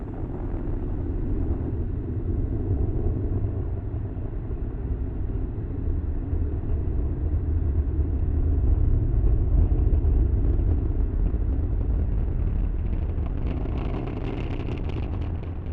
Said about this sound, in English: Falcon 9 has successfully lifted off